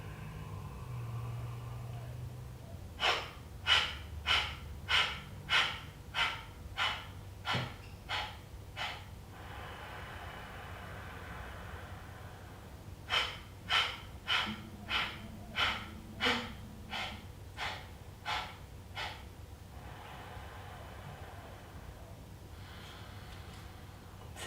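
Deep yoga breaths in a quiet room: two rounds of about eight rhythmic sharp exhales each, evenly spaced and close, separated by calm pauses and a softer inhale.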